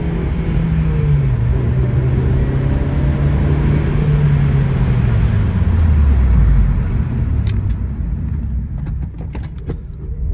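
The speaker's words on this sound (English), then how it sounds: "Let's do the 45-mile-an-hour hard stop." A Honda Civic Mugen pulling a hard stop from 45 mph, loud road and tyre roar with a falling engine tone as the car slows, then a few faint ticks as it settles.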